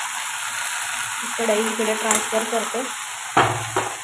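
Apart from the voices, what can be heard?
vegetable curry cooking in a pan on the gas stove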